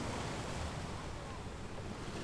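Sea waves washing onto a beach, a soft continuous surf roar mixed with wind buffeting the microphone, fairly faint and steady with no speech.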